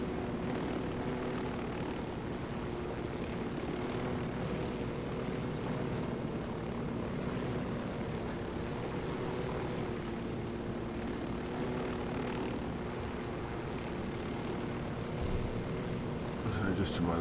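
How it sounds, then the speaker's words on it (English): Helicopter flying overhead in the video game Ghost Recon Wildlands, a purple special forces chopper, its steady rotor and engine drone continuous and loud throughout, with other aircraft engine noise blended in. "Those purple helicopter that I'm just underneath is Unidad"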